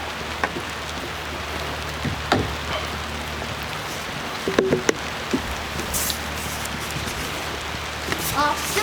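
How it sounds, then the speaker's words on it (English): Steady rain falls outdoors at a building site where a concrete slab is being prepared, a soft even hiss with scattered sharper drops and knocks over a few seconds. "the rain that wasn't supposed to happen today or tomorrow morning is happening"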